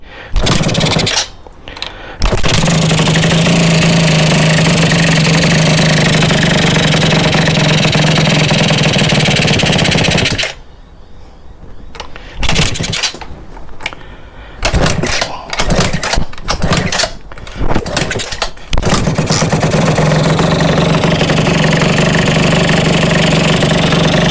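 A Yamaha Jog CE50 70cc scooter engine idles loudly and steadily just after starting, drops to a stuttering, uneven run in the middle as it nearly dies, then settles back into a steady idle.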